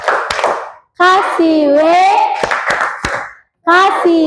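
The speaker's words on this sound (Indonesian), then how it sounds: "Kasih tepuk wow dulu untuk teman kita yang sudah tampil." Children in a classroom chant a rhythmic cheer with sharp hand claps punctuating their sung voices, a few distinct claps spaced between the chanted phrases.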